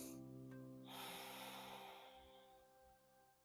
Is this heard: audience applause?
no